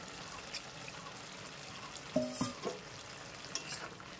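Fried potatoes are stirred into cabbage in a wok, a faint, soft scraping and stirring under a low sizzle, with a few brief knocks in the middle. No one talks.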